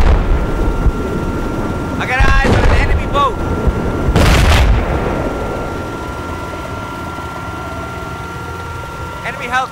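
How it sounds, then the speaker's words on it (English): Enemy helicopter in the video game Battlefield 4, a rotor drone under loud bursts of gunfire and booming explosions, with game voice callouts heard over the battle. "I got eyes on an enemy chopper."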